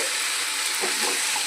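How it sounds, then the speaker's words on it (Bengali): Spice paste sautéed in a pan while cooking a tilapia recipe with poppy seed, drumsticks, eggplant and potato, a loud dense sizzle with a soft stirring scrape, short and close. "মশলাটা একটু কষিয়ে নেব"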